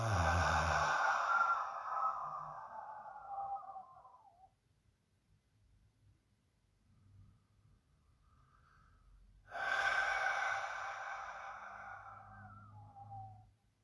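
Breathing out slowly during a guided meditation: two long, close, airy exhales separated by a quiet pause.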